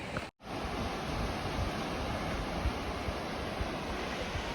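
Ocean surf on the Oregon coast, heard as a continuous broad roar of breaking waves that is steady and fairly loud, with a brief dropout near the start.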